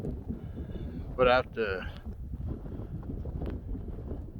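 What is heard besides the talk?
wind blowing on a snowy walk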